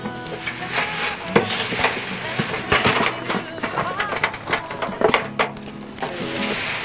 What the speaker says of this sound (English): And then you just start stirring it, and you stir it like you're paddling